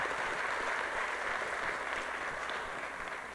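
Audience applause at an education talk, a steady wash of many hands clapping, moderately loud and even throughout without standout claps, no voices heard over it.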